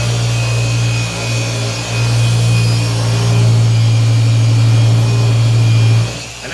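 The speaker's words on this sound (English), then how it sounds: "I did turn it on and try to bog it down." A Rupes Bigfoot 21 Mark III orbital polisher runs continuously at close range, a loud steady motor whine and hum that holds its pitch while being pressed to bog it down, then cuts off at the end.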